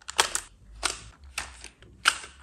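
Arms of an SJRC F11s PRO 4K GPS gimbal drone, powered off, unfolding and locking into place, giving four crisp, separate plastic clicks spaced about half a second apart, close and alone.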